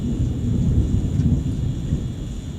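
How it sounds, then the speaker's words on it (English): Loud thunder rumbles through a thunderstorm, a deep sustained roll that stays heavy for the whole stretch, with rain hissing faintly underneath and no voices. "That was loud right there. That thunder."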